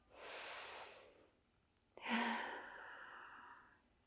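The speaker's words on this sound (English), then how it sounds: "First we inhale and exhale." A slow yoga breath at the start of a beginner Kundalini class: a soft, breathy inhale, a short pause and catch, then a longer, stronger exhale that fades away. The breath sounds close and quiet, with no speech.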